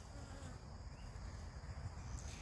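Honey bees in a hive make a faint, steady droning hum with a low buzzing undertone, continuous throughout and with no voices.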